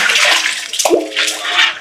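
Water splashes and pours in rushing bursts close by, with a brief gurgling scoop midway before the pouring resumes.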